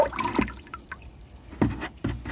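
Cleaning solution poured into water inside a Jandy salt chlorine generator cell, heard as a few distinct liquid drips and splashes with quiet gaps between them, close by and fairly faint.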